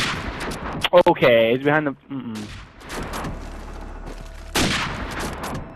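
Video game gunfire in a competitive first-person shooter match, several sharp shots and bursts of fire with a distant boom, heard under excited commentary.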